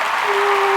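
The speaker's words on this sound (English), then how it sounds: "You need some applause sound effects" Applause sound effect, a dense burst of clapping from a crowd, loud and continuous for under a second, with no talking.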